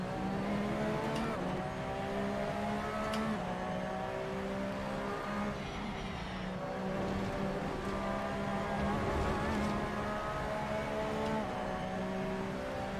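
Race car engine in the Assetto Corsa sim game, a steady harmonic drone with shifting pitch as revs rise and fall, loud and continuous throughout with faint tyre noise.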